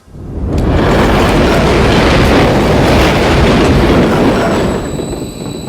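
A train from the video game Call of Duty Modern Warfare 3 rolls past in a loud, steady rumble with dense rattling and clatter, building in within a second and holding close and full throughout before easing slightly at the end.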